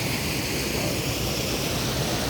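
River water rushes in a steady, loud, broadband wash at Pantik, Maragondon, Cavite, close by and unbroken, with no voices.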